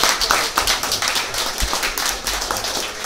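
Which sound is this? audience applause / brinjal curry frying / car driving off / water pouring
audience applause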